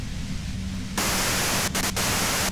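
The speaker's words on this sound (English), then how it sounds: "If you've got something really important to say, you can do it through the white noise." Loud white-noise static from the Disco Elysium video game cuts in abruptly after a short quiet stretch, then hisses on steadily with a couple of brief dropouts near the end.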